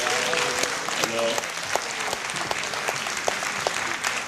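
Steady applause from a conference audience in Geneva, a broad wash of clapping with a few sharper individual claps standing out, moderately distant and continuous throughout.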